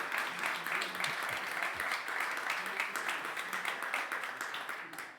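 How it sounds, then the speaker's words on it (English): An audience applauds the team at a tech conference with steady, fairly distant clapping that sounds like a sizable crowd and tapers off slightly at the end. "an applause for the team."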